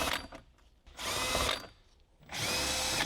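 Power tool spinning out bolts with a 10mm socket on a Lexus RX 350 dash, two loud sustained whirring bursts separated by a short quieter gap with faint rattling.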